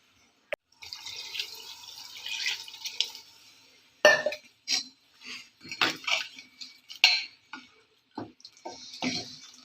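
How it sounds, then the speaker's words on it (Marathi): Water poured from a pot into a simmering village-style soybean curry, splashing in several short bursts mixed with metallic clinks of the vessel, close and fairly quiet with no talk. "अजून एक तांब्या पाणी टाकूया।"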